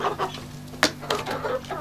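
A chicken clucks in short, close, fairly loud bursts with a few sharper squawks, and no talking over it.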